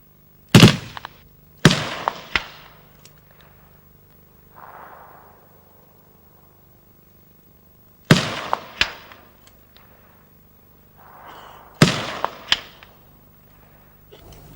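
An M58 machine gun fires 7.62mm AP rounds at an APC target, heard as sharp cracking shots in short clustered bursts with echoing tails and quiet gaps between groups.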